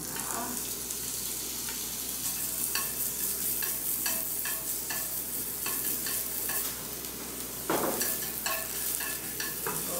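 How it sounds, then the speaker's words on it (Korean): Seasoned shiitake mushrooms and meat stir-fried in a pan, a steady close sizzle with repeated scraping stirs throughout. "아까 양념했던 재료 중에 표고버섯하고 고기 볶아주시면 됩니다"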